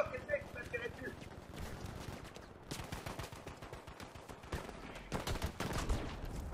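Battlefield V gunfire crackles in repeated automatic bursts and scattered shots, some near and sharp, others more distant, while players talk over the battle.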